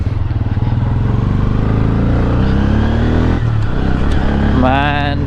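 Bajaj Pulsar N160 motorcycle with dual-channel ABS being ridden, its engine droning steadily and loud throughout with wind rush, shifting pitch near the end, while someone talks over it.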